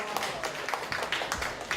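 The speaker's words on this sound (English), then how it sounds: "Give yourselves a round of applause for showing up." Audience applause at a community kickoff event for a reading program, a quiet, steady patter of many hands clapping at some distance for under two seconds, with a murmur of voices mixed in.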